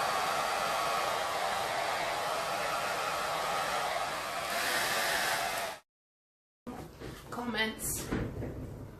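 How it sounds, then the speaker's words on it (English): A hairdryer blows on acrylic resin paint during a dirty pour, a steady close hissing whoosh that runs loudly and then cuts off abruptly, followed by a short gap and some handling clatter. "I'm going to try a hairdryer"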